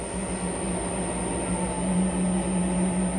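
A lathe turning a maple crotch blank filled with epoxy at about 400 RPM gives a steady, continuous drone with a sustained tonal hum and a high whine, loud and unbroken throughout.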